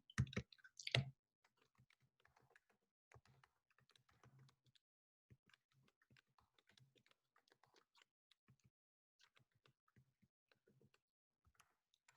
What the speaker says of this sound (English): So I'll just type that again.